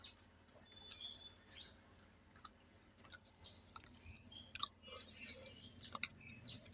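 Close, quiet chewing of low-quality food, soft wet mouth sounds and small crunches in an irregular rhythm, with faint chirping in the background.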